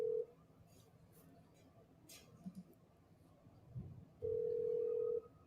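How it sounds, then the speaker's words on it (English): Outgoing telephone call ringing tone, a steady electronic tone heard once briefly at the start and again for about a second near the end, separated by quiet line hiss with faint background noise. "hear it ringing"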